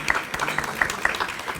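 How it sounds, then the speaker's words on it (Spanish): An audience at a poetry and music evening in Almería applauds a new director, producing a brief burst of scattered, crisp hand claps in a room. "Así que un fuerte aplauso para Mario Pulido, nuestro nuevo director,"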